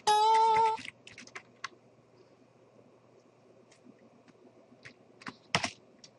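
Keys clacking on a computer keyboard as asterisks or hyphens are typed for a code comment, a loud burst at the start, then a scatter of light taps and a sharp final cluster, close and quiet between strokes, with no talking.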